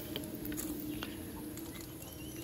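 Steady heavy rain patters softly and evenly, faint and distant, at a duck-rearing spot with no voices.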